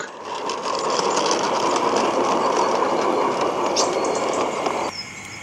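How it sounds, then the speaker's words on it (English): A model railway steam locomotive hauling the morning mixed train rolls steadily into a small station past a busy loading dock, a continuous loud rumbling chuff and rail clatter without a pause, easing off near the end. "the morning up mixed arrives from Bickerton and steams in past the bustling activity on the loading dock"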